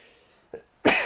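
A short catch of breath followed by a sharp, loud sneeze, close by and alone.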